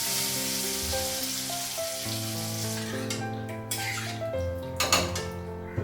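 Dried red and green chillies hit hot oil in a kadai to temper dal, giving a dense, close sizzle that crackles steadily, along with faint clinks of the pan.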